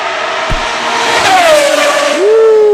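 Pagani hypercar roadster engine roaring at full volume, a loud, close, rising and falling howl with a sharp upward sweep in pitch, briefly blended with background voice.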